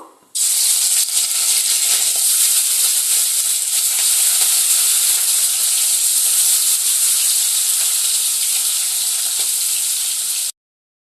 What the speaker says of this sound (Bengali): তেলটা গরম হলে আমি চিংড়ি মাছটা এবার ভেজে নেব